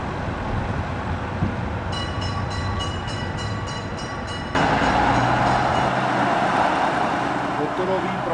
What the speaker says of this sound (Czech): Odjezd motoráčku z nádraží Bad Doberan